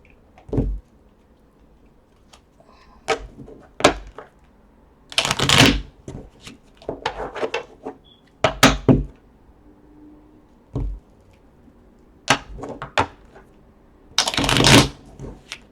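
Tarot cards shuffled by hand in a series of crisp, close riffling bursts with short pauses between them, and no voices.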